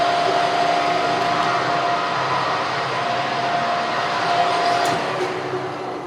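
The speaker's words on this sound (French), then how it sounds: "Là je vais prendre mon forêt à centrer et puis on va percer le trou" Center drill boring into aluminium on a machine tool, a steady broadband whir with a thin sustained whine running throughout, fairly loud and continuous without voices.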